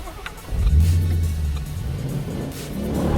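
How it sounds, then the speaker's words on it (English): A Ford Mustang doing a burnout, its engine surging into a loud, close rumbling rev that holds steady with a throaty low drone. "it's so refreshing to have a car that loves to do burnouts"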